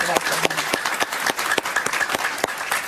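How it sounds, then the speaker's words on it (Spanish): A studio audience on a Spanish-language television talk show applauds, with sharp individual claps over a steady patter of fairly loud, close clapping. "Un aplauso para ella, por favor."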